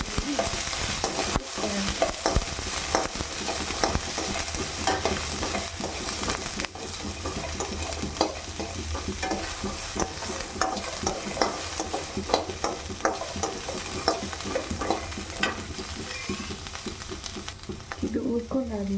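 Onions sizzle steadily in a hot pan during home festival cooking while a spoon stirs and scrapes them at a busy, irregular pace, close and loud, with no talking.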